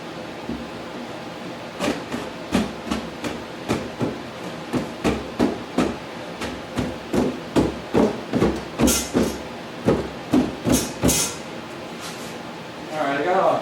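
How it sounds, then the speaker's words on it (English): Rawhide leather mallet striking a kitchen cabinet face frame, a run of dull, regular knocks close by, speeding up into a steady series in the middle before stopping. "I got a leather mallet here, a rawhide mallet."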